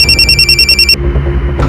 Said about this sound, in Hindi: 1 मिनट, उसी नंबर से फोन आया।